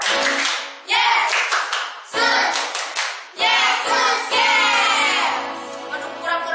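Children at a church Sunday school clap their hands together in loud bursts, with several short pauses between the rounds.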